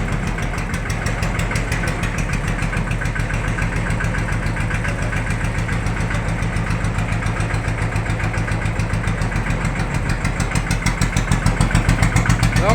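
A vehicle engine idles loudly and close with a steady rhythmic throb that swells slightly toward the end as it is revved, with no voices heard.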